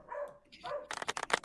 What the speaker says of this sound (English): My dogs are about to start talking back to Canada here in a second.